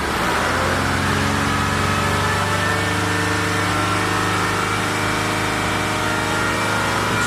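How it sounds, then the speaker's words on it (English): A Jaguar XF 3.0d diesel with faults, running again after a restart, holds a steady, even idle drone for several seconds, close and continuous with no voices over it. "Oh, it's started again."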